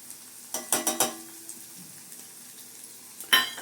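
Ingredients for a garlic and pepper kuzhambu fry in hot oil, a soft sizzle broken by a quick cluster of sharp crackling bursts early on and another loud burst near the end.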